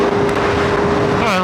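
A 2025 BMW S1000RR motorcycle with an Arrow full titanium exhaust runs at steady speed, a loud continuous engine drone with wind rush, rising slightly in pitch at the end.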